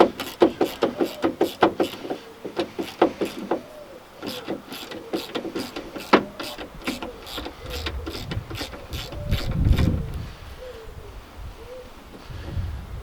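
Door bolts on a BMW E36 coupe being wound out with a ratchet tool: rapid clicking bursts of the ratchet pawl, close and repeated in uneven runs, with softer scraping and handling noise later.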